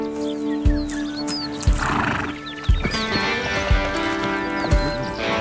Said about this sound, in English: horses range from their powerful 45 km/h gallop to the 20 km/h canter, the 15 km/h trot, down to a slow walking pace